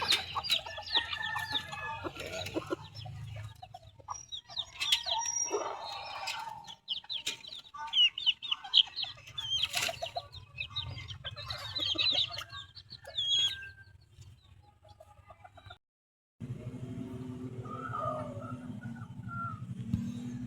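Several chickens cluck and squawk nearby, with a rooster crowing among them and a low background rumble, the calls coming in irregular bursts.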